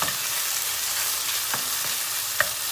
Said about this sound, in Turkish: Salçamızı da iyice kavurduk.